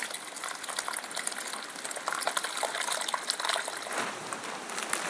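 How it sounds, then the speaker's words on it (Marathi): Bhokar, a wild vegetable, is rinsed in water to wash off dust, giving a steady close splashing and swishing of water throughout without speech. "याच्यात आहे ना आता पाणी होते ते आणि जरा धुवून घेते"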